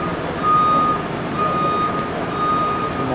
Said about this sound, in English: He's got a beeper on him when he backs up.